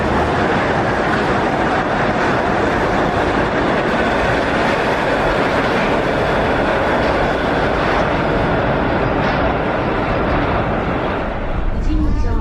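A suspended monorail train runs past with a continuous, loud rumble and rattling wheel noise that holds steady throughout, close to the listener, ending with a faint squeal.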